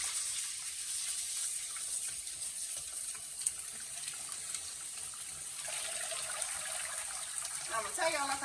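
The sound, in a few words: greens washed in running tap water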